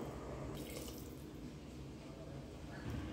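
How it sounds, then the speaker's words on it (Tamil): Water pours steadily into a cooking pot holding chopped bottle gourd for a Tamil kadayal dish, a faint continuous splashing flow throughout with no speech. "இப்போ இந்த காய் மூழ்கிற அளவுக்கு தண்ணி சேர்த்துக்கலாம்"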